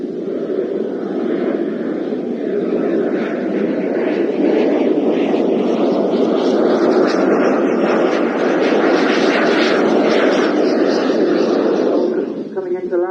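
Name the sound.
large model aircraft flying in to land at airshow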